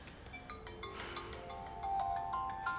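A mobile phone ringtone chimes in a repeating melodic pattern, moderately close and clear over a quiet room, with no one speaking.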